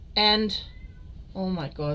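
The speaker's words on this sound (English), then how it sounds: "that was my cat" Pet cat named Nico meows loudly twice at a door, drawn-out nearby cries with a short gap between them, while a voice exclaims in between.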